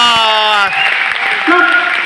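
Audience clapping at a Vestige event in Kolkata, a dense patter of hands that rises as a voice trails off and continues with talking over it.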